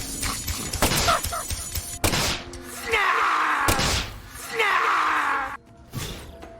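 Bursts of gunfire from shooting enemies in the game Deadly Premonition 2, loud rapid volleys with thumps and pained cries, alongside in-game noise.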